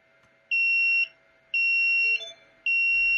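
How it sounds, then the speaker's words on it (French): Three loud, high-pitched electronic beeps from a Flying Bear LaserMan laser engraver signalling it has connected, each about half a second long and evenly spaced, with a soft mechanical hum underneath. "La série de bips m'indique qu'elle est bien connectée."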